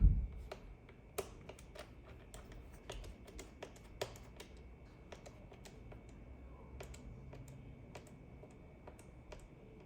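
Small screws being tightened into the plastic case of an Asus ROG Zephyrus GA503QR laptop, a run of faint, close, irregular ticks and clicks from the screwdriver over quiet background hiss, with no talking.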